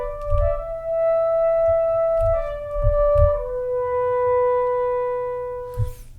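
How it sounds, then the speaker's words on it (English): Solo French horn virtual instrument patch holding sustained, smooth notes that step down in a slow melodic line, close and clear, with low rumbling bumps underneath. "So the solo horn sounds like this."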